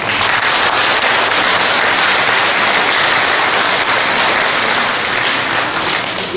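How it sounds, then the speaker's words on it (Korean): A large lecture audience applauds loudly and continuously, many hands clapping in a dense, sustained roar. "한 번 더 박수를 보내주십시오."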